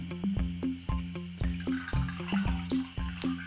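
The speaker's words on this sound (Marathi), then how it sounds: "परत दुसऱ्या पाण्याने धुवून घ्यायचं." Homemade paneer, curdled with lemon juice, being rinsed in fresh water, with rhythmic splashing and sloshing as water is poured and stirred, repeated in regular bursts at close range without talk.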